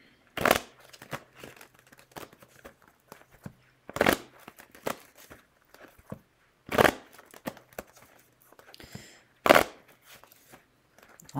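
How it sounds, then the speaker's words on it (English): Tarot cards are shuffled in a quiet room: four louder riffling bursts a few seconds apart, with soft papery flicks, slides and taps of the cards between them. "Lots of shuffling here."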